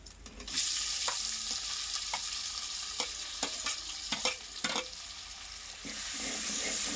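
Masala roasts in a hot pan for stuffed bell peppers (bharwan shimla mirch), a steady close sizzle with repeated scraping strokes as it is stirred. No one speaks.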